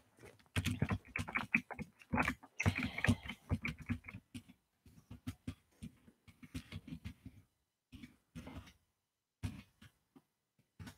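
Irregular bursts of computer keyboard typing, close and fairly quiet, with clustered keystrokes and short pauses between runs and no talking.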